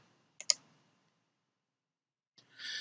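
Mouse clicks in CAD software: a quick pair of crisp, close clicks, then near-silence before another faint click and a soft hiss.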